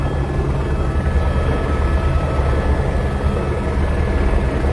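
Helicopter at Patna airport heard from close by or aboard, a steady, loud, unbroken engine and rotor drone with heavy low rumble and no speech.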